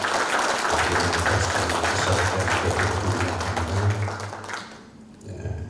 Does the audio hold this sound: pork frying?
no